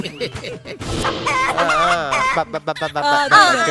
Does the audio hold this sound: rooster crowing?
yes